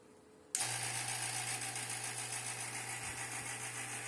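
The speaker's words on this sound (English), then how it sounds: "now we're going to turn on the vacuum pump" A vacuum pump clicks on abruptly and keeps running with a steady mechanical hum and faint rattling pulses, close by and alone, while bleeding the dual charge air cooler system on a 2019 Corvette C7 ZR1.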